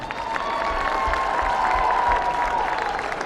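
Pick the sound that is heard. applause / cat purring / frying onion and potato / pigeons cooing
applause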